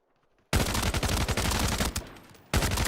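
Video game gunfire bursts out suddenly after a quiet start, a dense rapid volley lasting about a second and a half, a brief lull, then another loud burst at the end.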